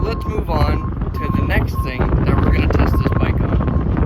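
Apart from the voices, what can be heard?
wind blowing into the microphone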